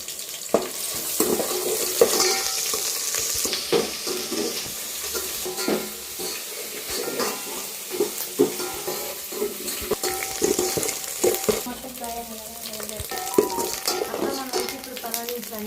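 Pulao masala with ginger garlic paste and curry leaves fries in a pan, irregular clatter and scraping of a spoon over a soft sizzle, with some water-like splashing and faint sounds from nearby.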